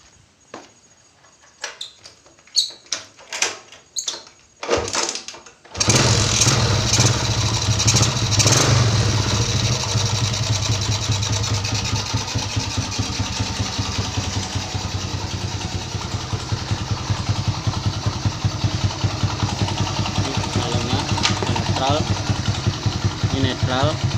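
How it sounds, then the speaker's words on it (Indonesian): A Suzuki Shogun 110 motorcycle with a broken crankshaft and damaged double-clutch housing: a few sharp clicks and attempts, then the engine catches and settles into a steady, close, continuous idle. "dihidupin motornya."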